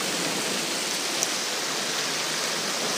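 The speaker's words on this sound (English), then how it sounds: "this is a really good hailstorm right now." Hailstorm outdoors, a dense, even hiss of pellets striking surfaces that continues unbroken and fairly loud, with one sharp tick standing out near the middle.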